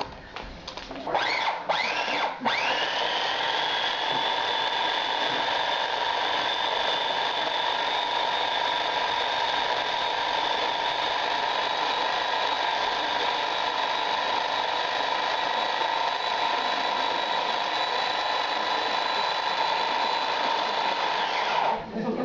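A blender whizzes a bright red tandoori spice marinade for a kosher Indian dish. The motor spins up over the first couple of seconds, then holds a steady, loud whirring whine for about twenty seconds.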